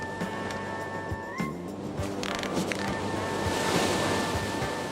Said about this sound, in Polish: Wiatr szaleje, to sztorm!